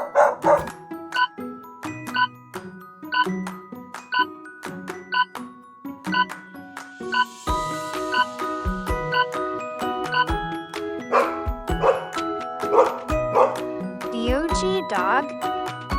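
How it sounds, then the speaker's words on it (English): A dog barks in repeated bursts over a bouncy, tuneful backing track, steady and fairly loud throughout, as a farm animal sound. "Dog."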